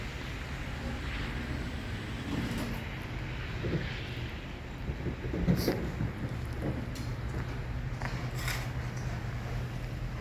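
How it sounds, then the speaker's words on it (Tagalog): Winter storm in Toronto, Ontario, with steady broadband rain and wind noise roaring continuously, a few brief louder gusts or impacts standing out, no voices. "walang tigil at papalakas ng bagyo"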